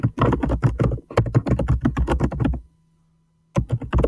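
Fingers tap quickly on a computer keyboard close by, a dense run of clicking keystrokes that stops for about a second before another burst of typing.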